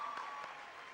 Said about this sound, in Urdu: آئیے ایک بار بھرپور تالیوں سے ان بچیوں کی اچیومنٹ سیلیبریٹ کریے